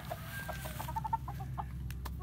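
Soft, quick clucks from a Boston Roundhead chicken repeat in short bursts against a low background hum, fairly faint and close by.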